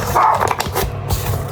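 A dog barks close by in a home kitchen while gingerbread is being made, giving several loud, quick barks in a burst over about a second and a half.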